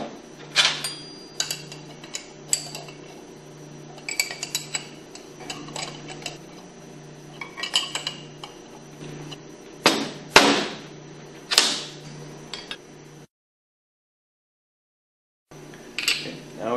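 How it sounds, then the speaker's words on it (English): Metal wrench clicks and clanks come irregularly while bolts are tightened on a Hypro centrifugal pump driven by a hydraulic motor, sharp close taps over a faint steady hum, with a brief silent gap near the end. "And then tighten them down with your 1/2-inch wrench."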